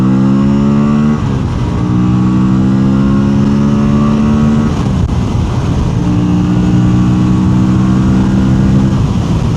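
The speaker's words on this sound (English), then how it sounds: "This has a really, really peppy engine." An Aprilia Tuono 457 motorcycle with a twin-cylinder 270-degree crank engine revs and pulls away, loud and close, its rising engine notes breaking twice as it shifts gears, then climbing again.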